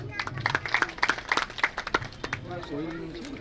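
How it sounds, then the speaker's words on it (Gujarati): Audience at a temple ceremony honouring a saint claps in a burst of applause, loud rhythmic clapping for about two seconds before a voice speaks. "તાળીઓથી વધાવો"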